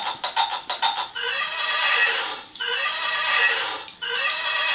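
A horse whinnies and neighs repeatedly, loud and close, in long shrill bursts with short breaks between them, alongside faint clip-clop. No one speaks.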